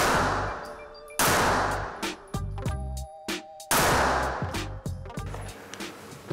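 Glock 9 mm pistol shots fired at a range: several loud, sharp cracks spaced a second or two apart, each with a quick echo and a decaying tail, close by and with no talking.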